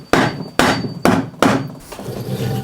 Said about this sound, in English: we're gonna use a block of wood and a hammer to try and shimmy it off